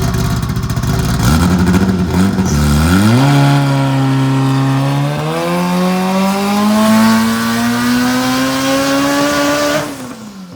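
A K24-swapped Ferrari engine on 12 psi of boost screams loudly through a dyno pull, its pitch climbing steadily through the rev range before it cuts off sharply at the end.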